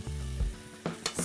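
Rice being stirred into a mixture in a cooking pot over heat, a short scraping stir with faint sizzling, then a few brief utensil knocks, close and fairly quiet.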